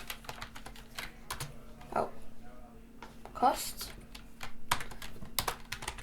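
Keys clatter in quick, uneven bursts on a computer keyboard while a game is built in Scratch, the close clicks sitting under a steady voice explaining the steps.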